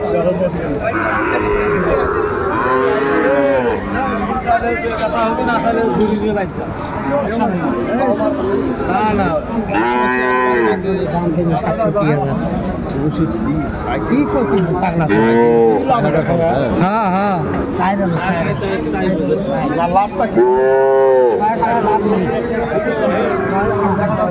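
Sahiwal bull calves and cattle at a livestock market, with repeated loud moos rising over a constant crowd chatter and nearby talk.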